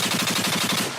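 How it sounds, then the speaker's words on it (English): Rapid bursts of gunfire crackle in a fast, even rhythm, like a machine gun firing continuously for about a second at moderate loudness. "Gunshot."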